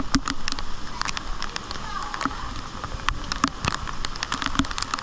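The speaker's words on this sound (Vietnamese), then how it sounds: "Mưa đã còn gió nữa chứ." Heavy flood-season rain in Huế, Vietnam, patters and splashes across surfaces with scattered sharp drops, over a steady rushing wash of strong wind and water.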